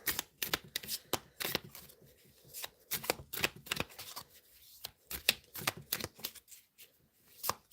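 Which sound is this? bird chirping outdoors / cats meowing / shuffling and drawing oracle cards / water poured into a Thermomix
shuffling and drawing oracle cards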